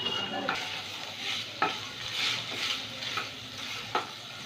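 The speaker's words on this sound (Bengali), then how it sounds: "আর একটু আদা কুচি দিয়ে দিলাম। একটু ভেজে নেব।" Chopped ginger with garlic frying and being stirred in a pot as the base for chicken soup, a steady soft sizzle broken by several distinct scraping strokes of the spoon, close and moderately loud, with no talking.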